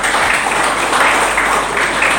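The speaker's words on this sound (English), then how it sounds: "Please, big applause." Seminar audience in an engineering department giving loud, continuous applause, a dense wash of many hands clapping close by without a break.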